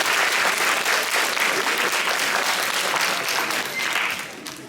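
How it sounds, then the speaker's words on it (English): Audience applause for teachers and staff at a middle school awards day celebration, a dense, loud, steady clapping that swells across the whole stretch and tapers slightly at the end, with no talk over it. "I want to give them a round of applause for their dedication and commitment."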